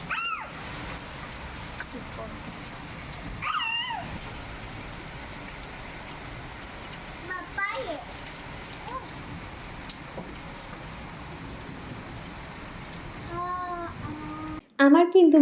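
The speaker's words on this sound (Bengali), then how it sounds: "এত সুন্দর ঝোড়ো হাওয়া সাথে ঝিরিঝিরি বৃষ্টি শুরু হয়েছিল" Steady, soft patter of light drizzling rain with a gusty, windy hiss, and occasional faint chirps and distant voices in the background.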